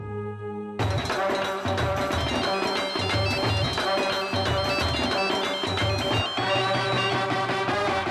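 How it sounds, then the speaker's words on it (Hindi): A phone ringtone plays steadily as a loud, busy electronic melody, with a short quieter pause before it continues without a break. "उदय को फोन करके देखो"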